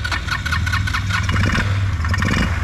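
Race-vehicle engine running and revving on asphalt after a crash, a loud, rough, close mechanical drone with uneven throttle, alone.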